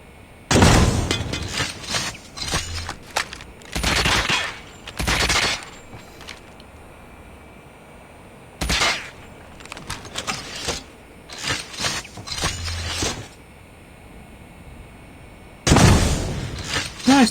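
RUS-79U gunfire in a video game, several sharp bursts of loud shots separated by short quiet gaps, with clicks and handling sounds between, close and without talk.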